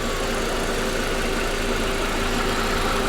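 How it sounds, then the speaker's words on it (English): BMW X5 engine running just after start, its secondary air injection pump producing a steady whine over a constant idle drone, close and continuous with no talking. "Hear that injection pump? That whee! That's your secondary air injection pump."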